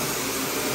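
A vacuum cleaner runs steadily over a pet-hair-laden carpet in a home, a close, loud and continuous broadband whoosh with no breaks and no voices.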